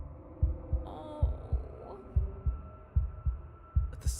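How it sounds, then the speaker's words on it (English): A wooden and fleshy heart in the Slay The Princess video game, thumping in a steady double-beat rhythm over a low droning hum, with brief faint tones above. "a wooden and fleshy heart beating with an unbroken rhythm"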